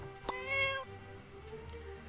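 A cat in the video game My Time at Portia gives a single clear, tonal meow near the start, faint and mid-distance, over quiet background game ambience with small soft clicks afterward.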